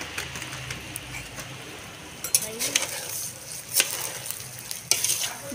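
Food fries in hot ghee in a home kitchen with a steady close sizzle, while a spoon stirs and clinks against the pan in a few sharp scrapes.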